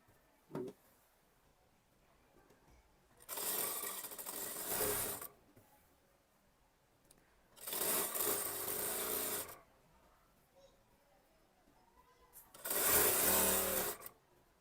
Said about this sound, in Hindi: तो अब हम यहीं से लॉक स्टिच करके हमें सिलाई शुरू करना है।